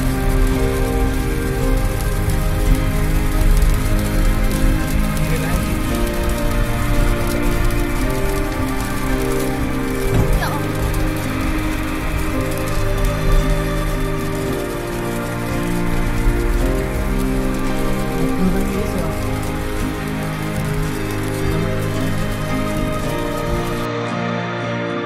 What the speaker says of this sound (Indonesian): Hujan lebat disertai angin.